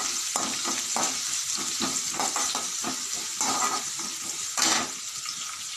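Green chili and half an onion stir-frying in a pan, a bright sizzle broken by repeated spatula scrapes and tosses at an uneven rhythm, close up with no voices.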